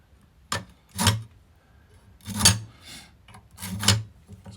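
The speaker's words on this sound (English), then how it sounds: "I'm gonna have to grind it because I don't have the machinist tools to even do what I want here." A small metal rod is ground down in four or five short, rasping bursts separated by brief pauses, fairly close and moderately loud, with no talking.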